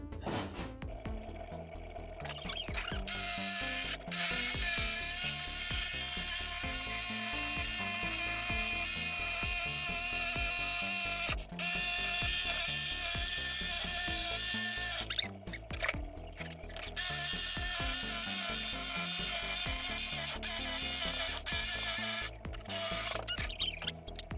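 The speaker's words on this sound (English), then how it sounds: "So we need to do it with the jigsaw instead." A jigsaw cuts a wooden arched batten for a boat softtop or bimini, giving a steady high buzzing drone that runs almost continuously and is briefly interrupted a few times, close and loud with no talking.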